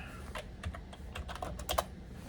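Rapid tapping on a computer keyboard, a short run of close, quick clicks at a moderate level with no speech over it.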